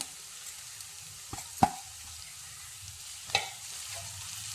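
Green chillies and crushed chilli are sautéed in a pan for an oyster mushroom stir-fry, a faint low sizzle broken by two or three soft spatula knocks against the pan.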